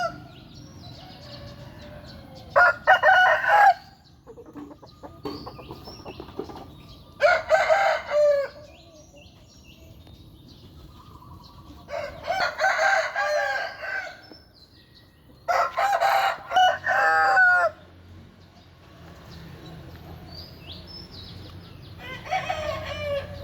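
A rooster crows loudly again and again, six long crows separated by quiet pauses, with faint chirping birds in between.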